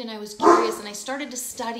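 Dogs indoors bark in a few loud, sharp yaps that cut across a woman's speech.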